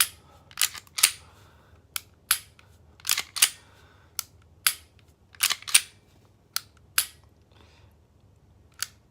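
A handgun's trigger is dry-fired with no round chambered, giving a series of sharp, close mechanical clicks spaced irregularly over several seconds. There is no talk.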